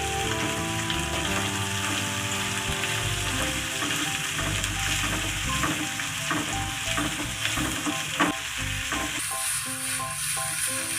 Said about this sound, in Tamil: நல்லா எண்ணெயில் வதக்கிங்க. நல்லா பூண்டு வதங்கட்டும்.